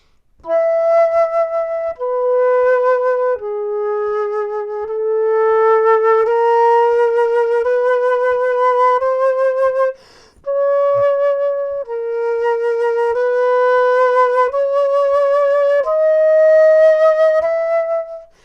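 A simple piano melody of sustained single notes played one after another at a steady pace, with a brief pause partway through.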